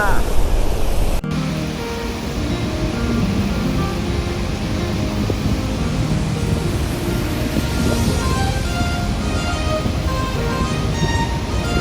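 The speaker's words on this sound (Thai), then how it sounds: "และข้างหลังเรานี้นะคะคือน้ำตกที่ใหญ่ที่สุดในอเมริกา" Niagara Falls roars as a dense, unbroken wall of rushing water. It comes through loud and steady, with a brief louder burst at the start before the broad roar settles.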